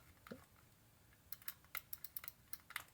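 Logitech M185 mouse buttons clicked repeatedly up close, a quick run of small sharp plastic clicks in an uneven rhythm after a brief quiet start.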